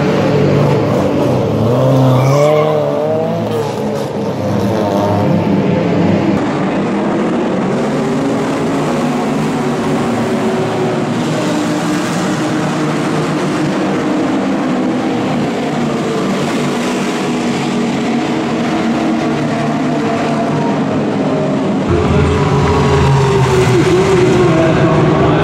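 A historic race car at Le Mans drives past loudly, its engine roaring and revving steadily for about 25 seconds, with a brief tire skid near the start and no talk over it.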